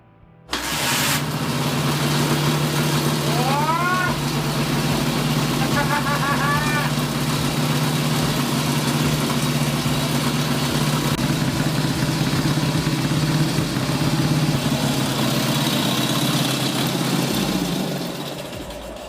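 A neglected 1945 M-72 Soviet flathead motorcycle engine cranks, catches and runs loud and steady close by for most of the stretch, with a couple of throttle blips early on before it fades out near the end.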